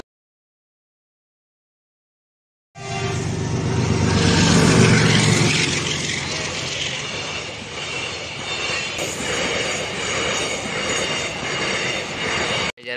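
After a couple of seconds of silence, a train rumbles past close by at a railway crossing, loud and steady with clattering wheels, continuing for about ten seconds.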